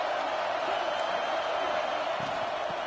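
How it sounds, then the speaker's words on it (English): Stadium crowd in the NCAA college football video game, a dense, steady roar of cheering fans that fills the whole stretch at moderate level, with a few faint thuds underneath and no clear talk. "This crowd ready to make its presence known."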